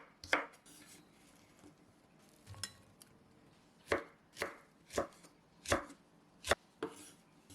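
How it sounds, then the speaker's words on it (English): A knife slices okra at a slant on a board, giving sharp, distinct chops that start sparse and then fall into a steady rhythm of about one per half second, close and clear with no talking. "Remove the top part and cut slantingly, about half centimeter thick"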